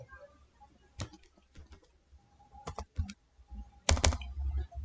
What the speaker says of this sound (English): Now here type wedding